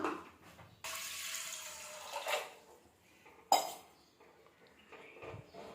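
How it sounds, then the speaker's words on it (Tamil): Water pours into a cooking pot for horse gram (kollu) rasam in a home kitchen, a couple of sustained splashing streams with a metallic clink between them, close and fairly quiet. "ஒரு 2 கப்பு தண்ணி விட்டுக்கலாம்."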